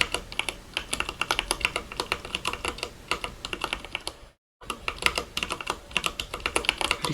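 Close, brisk clatter of keystrokes on a computer keyboard, typed in quick uneven bursts with one short silent gap midway.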